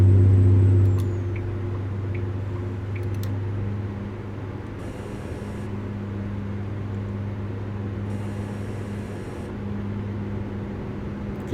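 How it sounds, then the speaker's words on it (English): Engine retarder braking on a heavy truck descending a grade in American Truck Simulator, a steady low droning rumble with a constant tonal hum, even and sustained throughout with no talking. "You can hear the retarder kicking in because we're going just a little bit too fast downhill"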